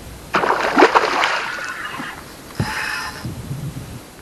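A hooked pike thrashing at the water's surface during spring sight fishing, one loud burst of splashing followed by a smaller splash and sloshing.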